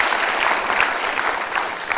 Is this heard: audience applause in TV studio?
yes